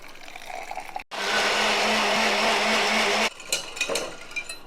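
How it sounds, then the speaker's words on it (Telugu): A mixer grinder whirs loudly and steadily for about two seconds while blending orange juice with water, after a brief silence, then stops and leaves clattering handling noises. "నేను ఇందులో కొంచెం వాటర్ వేసి మిక్సీ పట్టేద్దాం"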